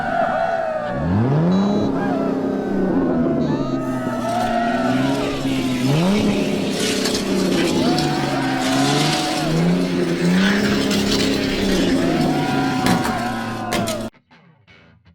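Race cars, a Corvette against a Pagani, in a downhill race, engines revving loud and continuous with rising and falling pitch sweeps as they accelerate and shift, some tire noise mixed in, ending abruptly near the close.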